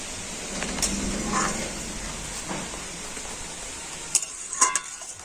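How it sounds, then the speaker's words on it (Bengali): Milk for a sabudana dessert simmers and thickens in a pan with a soft, continuous bubbling hiss, broken by a few light scrapes and clinks of a utensil near the end. "এবারে আমি দুধটাকে ফুটিয়ে একটু ঘন করে নেব"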